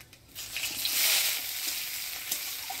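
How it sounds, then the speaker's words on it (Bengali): Soft, steady sizzling of black cumin seeds and chopped onion frying in a pan, a light crackle that swells briefly then settles, with no voices. "ফোড়নে দিয়ে দিব কালো জিরা, পেঁয়াজ কুচি"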